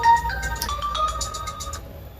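A phone rings with a short electronic ringtone melody of bright, clear tones while calling a car rental office, close and alone for a couple of seconds.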